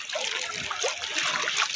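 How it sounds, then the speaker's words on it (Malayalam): Floodwater current rushing during a flood in Kottayam, heard close as a steady broadband wash of moving water with small splashes and trickles throughout, no talk. "ഇത് ഒഴുക്കാ കേട്ടോ."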